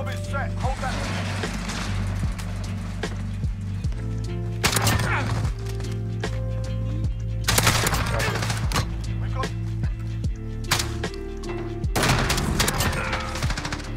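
Origin 12 shotgun firing slug rounds in Modern Warfare, three or four heavy broadband blasts spaced a few seconds apart over a steady game background hum.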